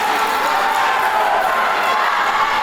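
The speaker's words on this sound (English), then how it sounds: "The crowd really getting behind their man." A packed kickboxing arena crowd roars and cheers steadily, a dense, loud wall of voices sustained without a break.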